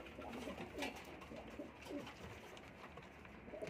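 Teddy pigeons coo softly inside a breeding loft, a few low throaty coos repeating in gentle pulses against a faint background hum, quiet and close with no voices.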